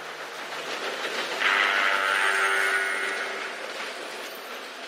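Train approaching in the Red Dead Redemption 2 video game, a steady rumbling rail roar that swells over a few seconds and then eases, with a sustained whistle-like tone sounding in the middle.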